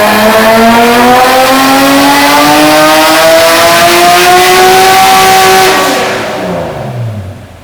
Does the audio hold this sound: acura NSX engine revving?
yes